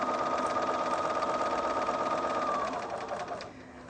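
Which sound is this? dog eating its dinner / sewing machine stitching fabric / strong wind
sewing machine stitching fabric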